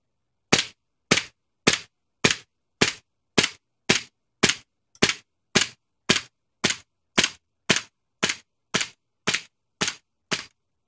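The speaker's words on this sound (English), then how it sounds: "We're going to go through both these magazines. It'll be about 30 rounds, and you can see the gas blowback." An Elite Force 1911 A1 gas blowback airsoft pistol fires steadily at wood in a backyard, about twenty sharp cracking shots at a regular half-second rhythm, loud and close with silence between each.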